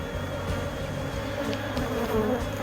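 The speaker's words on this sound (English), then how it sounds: "The bees are not happy" Honeybees buzz steadily around an open beehive as a second super is added on top, a dense, agitated hum close by and continuous throughout with no talking.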